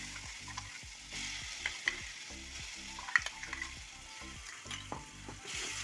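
Ground spice paste with mustard seeds, dried red chili and curry leaves frying in hot oil for a Kerala ginger curry, a steady close sizzle broken by repeated scraping stir strokes of a spoon against the pan, with no talking.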